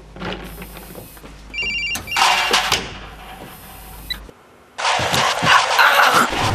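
Nokia 5070 mobile phone ringing with bright electronic ringtone bursts, loud and close, separated by a short gap and a sudden drop to near silence before the ringing resumes.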